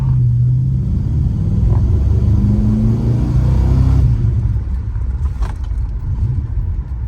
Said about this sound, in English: this thing is now going down into low gear, as you can see now as we burn the tires